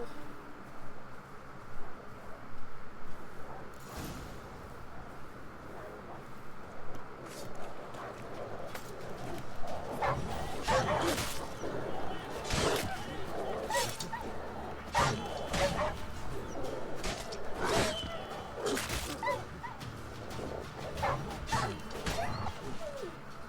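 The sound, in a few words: rabid dogs barking in video game Witcher 3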